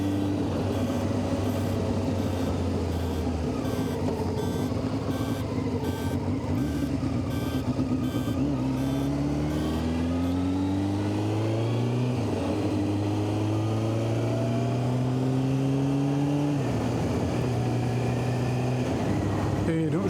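A 1990 Honda CBR600F motorcycle engine out in the countryside, a steady loud engine drone with rising pitch sweeps as it revs up and through the gears, continuous and close throughout.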